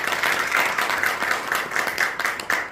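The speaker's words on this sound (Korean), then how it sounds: "함승수 교수님 수고하셨는데 박수 좀 해주시겠어요?" An audience at a policy presentation applauds a professor, giving steady, dense hand clapping that holds at an even level and sounds fairly close throughout.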